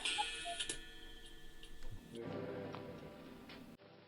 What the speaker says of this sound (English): You're the most wonderful cuckoo clock in the whole world.